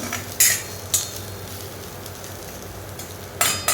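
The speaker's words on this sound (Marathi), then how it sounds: "मी अशा प्रकारे परतून घेणार आहे तेलामध्ये" Masala stirred and fried in oil in a pan, a steady soft sizzle under several sharp metal scrapes and clinks of a spoon against the pan, about four distinct strokes in under four seconds.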